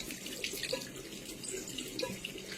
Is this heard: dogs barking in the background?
no